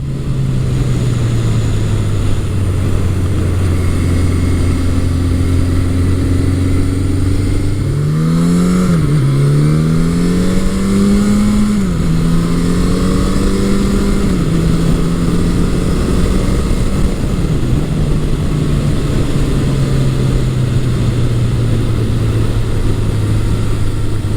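A 1981 or 1983 Suzuki GS1100E superbike engine pulls hard out of corners from about 2,500 RPM while being ridden, its low steady drone rising and falling in pitch through several revs over continuous loud wind rush, with no talking.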